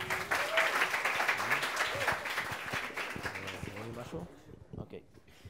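Audience applause at a React-IL tech meetup for a speaker named Lidor, a steady crowd clapping that fades out over several seconds, with some voices mixed in.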